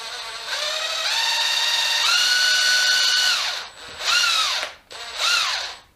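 A Makita hydraulic impact driver runs with the trigger pulled into high speed: a loud, close motor whine that climbs in pitch, holds, cuts off, then revs up again in two shorter bursts.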